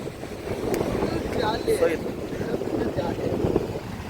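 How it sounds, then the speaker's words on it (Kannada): Strong wind buffets the microphone beside the Mangalore highway on the route from Theerthabailu toward Murudeshwar beach, a steady roaring rush with louder gusts, while people talk over it. "ಗಾಳಿ ನೋಡಿ ಹೆಂಗೆ ಬಿಸ್ತೈತೆ"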